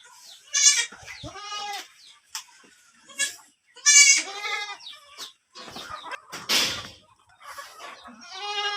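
Goats on a farm in Oriental Mindoro bleat again and again in uneven bursts, some close and loud, others softer and further back, with a few short quieter sounds between the calls.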